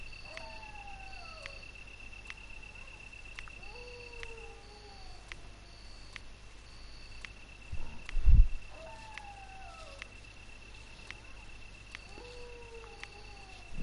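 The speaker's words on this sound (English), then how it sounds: "Enjoy the ASMR though, the crickets and the sound of the dog" Crickets chirp steadily through the ambient night soundscape of Resident Evil Director's Cut on PS1, a constant high trill with repeating descending howl-like calls and a brief low thump midway, no talking.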